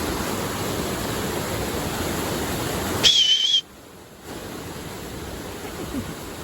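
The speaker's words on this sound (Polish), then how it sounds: "Tu jest wodospad." A waterfall gives a steady broadband rush of falling water, close and continuous. A brief high whistle and a short dropout break it near the middle.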